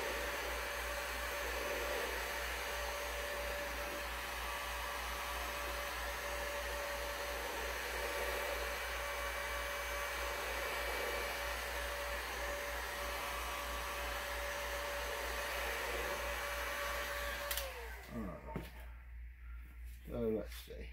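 A heat gun blows a steady, even whirring hiss while it warms up in a workshop for finishing serving trays and coasters. It runs unbroken for most of the stretch, then cuts off near the end and leaves quiet with light handling noise.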